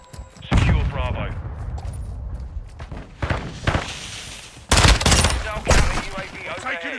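Hardcore Call of Duty Modern Warfare 2 multiplayer Domination gunfire: loud bursts of automatic shots in separate volleys, the heaviest near the end, mixed with footsteps and game noise while players talk.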